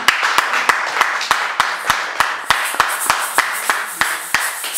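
Church congregation clapping together in a steady, rhythmic beat, each clap sharp and evenly spaced, fairly loud and close, continuing without speech over the whole stretch.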